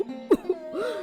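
An elderly woman with a worsening cough gives a short, close cough with a throaty catch, followed by a brief vocal murmur.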